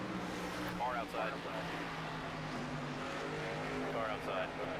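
Race car engines drone steadily from a NASCAR 25 Xfinity Series stock car racing three wide at Phoenix in a video game, with harmonic whine rising and falling as nearby cars pass, continuous and loud throughout.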